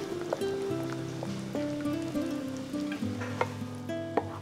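Boiled beans and chicken frying in a pan for chicken ragu, with a soft crackling sizzle and scattered stirring taps, close and quiet, over a backdrop of melodic background music.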